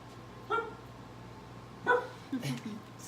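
A guard dog barks indoors: three separate barks, the last a quick double, fairly faint against a quiet steady hum.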